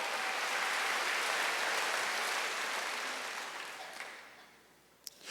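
A church congregation applauds during a Sunday worship service, a steady wash of clapping from many hands that fills the room, then thins and fades out toward the end.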